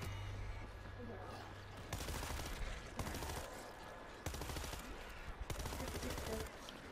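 Sustained automatic gunfire in the zombie shooter World War Z rattles out in several long, dense bursts separated by brief pauses, fairly quiet in the mix, with voices talking faintly underneath.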